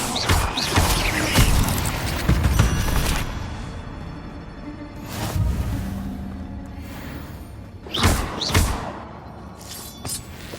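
Whooshing bursts of the Incendio fire spell in Hogwarts Legacy, a few loud crackling flares with crashes and thuds spaced several seconds apart over a low ambient rumble.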